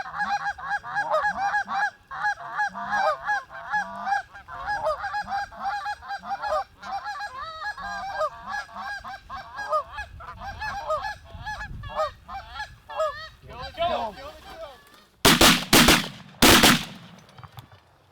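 A flock of geese honks continuously in flight overhead during a Michigan waterfowl hunt, a dense chorus of overlapping calls, followed near the end by several sharp, loud shotgun blasts fired in quick succession.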